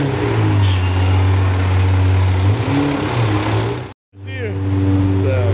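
A Lamborghini LP640 Roadster's engine rumbles loud and close with steady low tones, briefly cutting out before resuming, while a voice speaks over it.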